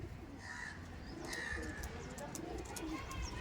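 A teddy pigeon coos softly amid other bird calls, including crow-like caws, over a busy outdoor background with people talking nearby; the calls are faint and somewhat masked.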